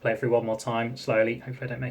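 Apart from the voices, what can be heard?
No distinct noise like a dog, phone or traffic.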